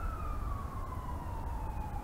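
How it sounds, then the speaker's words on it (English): Emergency vehicle siren wailing steadily outdoors near a lake, a single continuous tone sliding slowly downward over low rumbling background noise, moderately distant. "Why is there sirens?"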